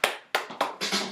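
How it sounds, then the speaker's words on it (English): Four sharp, separate claps a fraction of a second apart, each one bright and close with a quick decay, like a small group of children clapping together. "give yourselves a round of applause"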